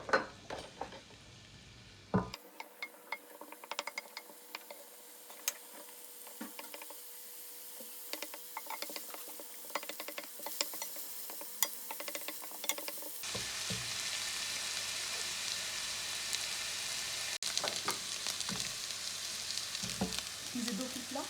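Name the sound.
onion frying and being stirred in hot oil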